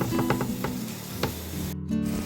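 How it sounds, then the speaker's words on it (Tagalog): Onions sautéing in butter in a pan: a steady low sizzle with a few soft stirring taps and scrapes, close by, and no talking. "Tapos pag na yung butter, lagyan na natin itong sibuyas"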